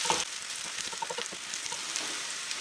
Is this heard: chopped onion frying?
yes